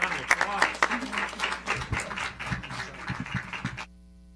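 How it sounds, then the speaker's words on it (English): Audience applause for a speaker at a council session, a steady spread of clapping from a crowd that runs for several seconds, then stops abruptly near the end. "let's give Jennifer a round of"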